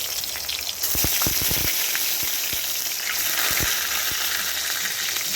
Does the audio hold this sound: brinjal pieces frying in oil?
yes